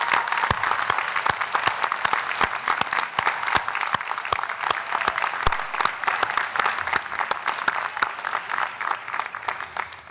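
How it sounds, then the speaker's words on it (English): Graduates and audience at a university education school commencement ceremony clap in a steady round of applause, with several sharp, close individual claps standing out over the continuous crowd clapping. "all of us on the stage thank you with a round of applause"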